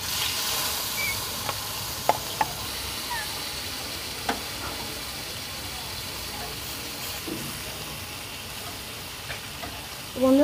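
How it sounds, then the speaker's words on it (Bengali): Spiced snakehead murrel fish pieces frying in mustard oil in a hot pan give a steady, fairly soft sizzle with a few brief pops and clicks, with no talking. "এবার আমি একে একে মাছগুলো, মশলা মাখানো মাছগুলো দিয়ে দেব।"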